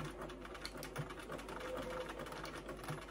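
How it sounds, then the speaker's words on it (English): A sewing machine back-tacks a few stitches at the start of a seam on fabric bunting, giving a steady, quiet mechanical whir with rapid needle clatter at close range. "what you want to do is back tack the beginning with a couple of stitches"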